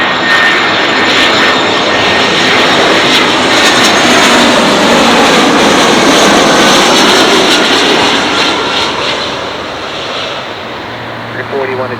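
A jet airliner roars in to land on runway 24 right at Los Angeles International Airport, its loud, close engine rumble swelling and then easing away toward the end.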